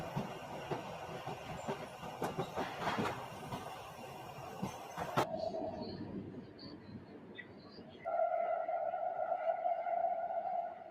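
A subway train pulls through a station, a rumbling clatter with rail clicks that cuts off abruptly, followed by a steady tonal hum like a chime or announcement tone.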